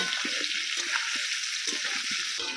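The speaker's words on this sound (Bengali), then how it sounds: "আমি খুব ভালো করে লাল লাল করে ভেজে নেব" Potatoes frying in hot oil for a Bengali mutton curry, a steady, loud, even sizzle with faint stirring knocks underneath.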